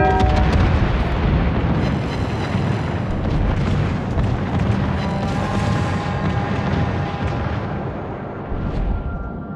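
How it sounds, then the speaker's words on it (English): Heavy, continuous barrage of warship gunfire in World of Warships, with the German battleship Schlieffen's secondary batteries firing at an enemy ship: dense overlapping booms and blasts roll on loudly without pause for the whole stretch. "Concentrate fire on the enemy warship."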